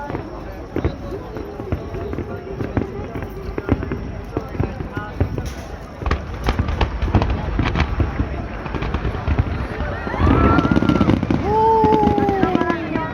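Fireworks bursting at the Futako-Tamagawa fireworks festival in Japan: a steady run of sharp pops and booms over constant crowd murmur, with rising whistling shells near the end and people talking nearby.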